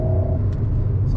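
Alpine A110S sports car driving with a steady low engine drone and exhaust rumble, a brief faint whoosh partway through, heard from inside the cabin.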